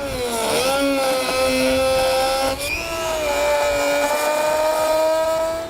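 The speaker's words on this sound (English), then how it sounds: "I'm going to use a Dremel tool with a cutting wheel on it." A Dremel rotary tool fitted with a cutting wheel cuts through a vehicle panel during a trailer hitch install, giving a steady, loud, high-pitched whine that dips in pitch when it bites the material.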